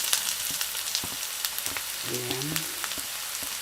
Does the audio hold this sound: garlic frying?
yes